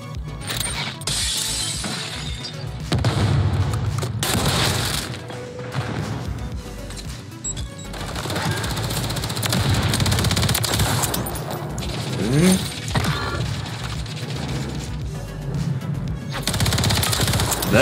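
A secret SMG submachine gun in a video game fires loud, rapid automatic bursts again and again over about eighteen seconds, with brief gaps between volleys and clinking, shattering impacts mixed in.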